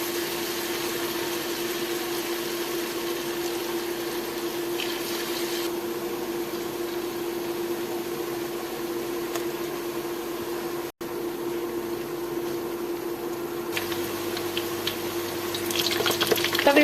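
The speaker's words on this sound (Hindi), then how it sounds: "अब हम पकौड़े फ्राई करना स्टार्ट करते हैं।" Potato pakoras frying in hot oil, made without gram flour, give a steady close sizzle with a constant hum underneath and no talking.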